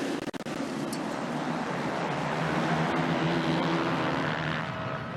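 A pack of 450 motocross bikes roars off the starting gate at Fox Raceway in the Pro Motocross finale, producing a dense, loud, continuous engine wall that swells and holds throughout.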